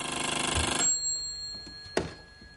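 A landline telephone rings loudly with a fast rattling electric bell for just under a second, then stops; a handset thunk and faint clicks follow as it is picked up, with no talk.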